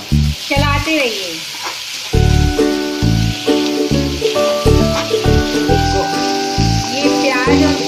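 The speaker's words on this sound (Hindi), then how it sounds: "ये कटा हुआ आलू इसमें डाल दीजिए और इसको चलाते रहिए।" Chopped potatoes sizzle steadily as they fry in a pan, with a loud, close, continuous crackle and spoon stirring clatter, while music plays underneath.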